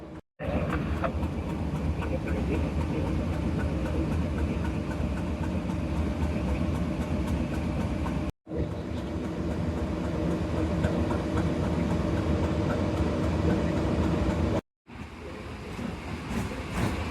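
Continuous on-board rumble and rattle of the Karakorum Express after leaving Lahore Railway Junction, a loud, even roar of wheels and coach vibration with faint clicks, broken by two abrupt cuts.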